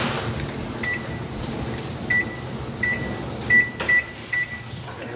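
A microwave range hood, fitted with a replacement control board, is plugged back in and emits several short, sharp beeps spaced irregularly over a steady low room hum.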